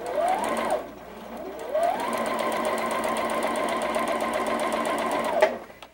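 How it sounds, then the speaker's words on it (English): A sewing machine stitches quilt fabric for a curved braid block in steady, rapid bursts, pausing briefly between runs, close and loud with no talking. "I can sew from right where my needle is all the way to that first pin"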